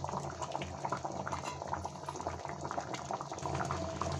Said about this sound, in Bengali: সাম্বারটা ফুটে উঠেছে